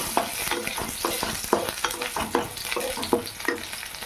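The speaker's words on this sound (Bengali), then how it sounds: "এবার দিলাম শুকনো লঙ্কা থেতো করে রাখা রসুন এটা একটু লাল লাল করে ভেজে নেবে" Dried red chillies and crushed garlic frying in a pan, a steady sizzle broken by rhythmic scraping stirs of a spatula, close and clear.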